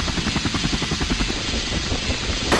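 A helicopter in a video game about infiltrating an airship whirs loudly and close, its rotor blades thudding in a rapid steady chop over a dense roar.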